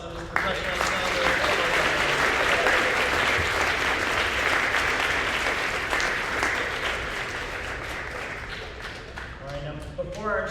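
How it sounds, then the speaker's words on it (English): An audience at a middle school jazz festival concert applauding, sustained loud clapping that fills the space and slowly tapers, with some voices and cheers mixed in near the end. "How about one more round of applause for this professional ensemble?"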